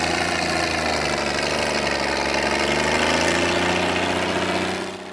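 Tractor pulling competition tractor engines idling, a loud, steady rumbling drone with throbbing low vibration, unchanging until it eases slightly at the very end, no voices.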